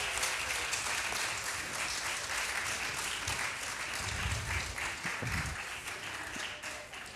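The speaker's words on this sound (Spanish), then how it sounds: "Ahora darle otro aplausín a los chavales que así se calientan" Families in an audience applaud children at a reading event tent during the Semana Negra festival, a dense steady clapping that carries on for several seconds and gradually eases off.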